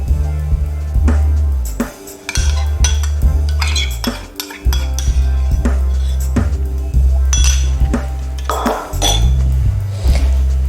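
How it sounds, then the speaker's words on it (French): Eggs and plain yogurt go into a mixing bowl while preparing spinach, goat cheese and walnut muffins, giving repeated clinks and knocks of utensils against the bowl, loud and close with brief pauses and no talk. "On va commencer par mettre les œufs dans le saladier et le yaourt nature."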